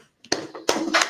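A few sharp hand claps ring out close together in a quick, brief burst, with a short quiet gap before the first.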